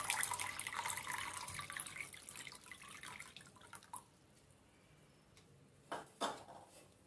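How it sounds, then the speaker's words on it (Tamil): Water runs and splashes into a metal pot while filter coffee decoction is prepared in a kitchen, a steady faint pour that fades out midway, followed by a few sharp clinks of the vessel. "இங்கே எடுத்து வச்சுருக்கிற பாத்திரத்தில் நான் வந்து ஒரு அரை பாத்திரம் அளவு தண்ணி விடுறேன்."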